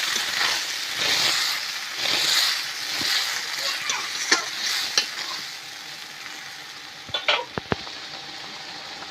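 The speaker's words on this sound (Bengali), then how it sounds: "এই যে কড়ার চারদিকে ফুটিয়ে গেল" Spinach and bhetki fish head ghonto simmering in a wok, a steady wet bubbling and sizzle with occasional spoon scrapes and clinks against the pan, close and continuous.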